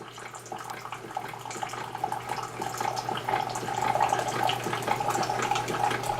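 A Keurig 2.0 coffee maker dispenses hot water into a cup, a steady soft trickle and gurgle with a faint hum underneath, continuous for several seconds.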